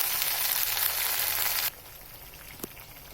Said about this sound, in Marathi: बघा असं तेल सुटेपर्यंत आपण हे वाटण असं परतून घ्यायचं आहे